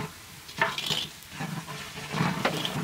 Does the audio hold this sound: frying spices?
yes